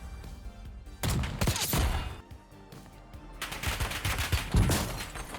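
Enemy gunfire in the shooter Ricochet sounds as rapid automatic bursts. Dense volleys crack loudly in two clusters, with a brief lull between them.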